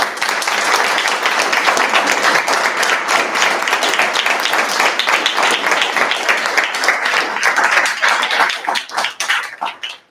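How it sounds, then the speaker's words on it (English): Loud, close applause from attendees at a student government association meeting, a full round of brisk clapping that holds for about eight seconds before thinning and fading out. "One final round of applause for Laura Cafaro."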